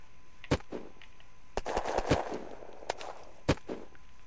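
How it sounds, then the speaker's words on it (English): Gunfire in the video game Unturned: scattered sharp shots at varying distances, some louder and nearer, others softer, with a short burst of rapid fire in the middle and no talking. "I hear crappy guns."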